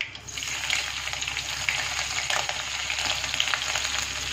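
Green chillies hit hot oil already crackling with cumin and mustard seeds, giving a steady, close hiss of frying with small pops throughout and no voices.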